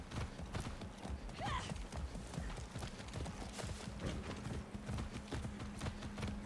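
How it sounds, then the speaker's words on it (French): Horse hooves clip-clop at a steady galloping rhythm in the Far Cry 6 video game, close and even throughout over a low background drone, with a brief whinny-like cry early on and a faint voice at times. "Et moi ce que je veux c'est monter à cheval, ça sera plus rapide."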